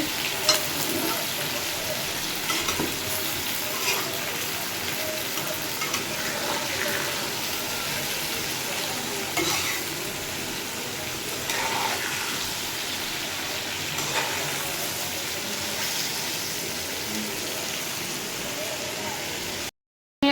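A potato and tomato vegetable curry simmers in a pan, giving a steady, close sizzle and bubbling hiss like rain that runs unbroken for about twenty seconds, with faint voices at times.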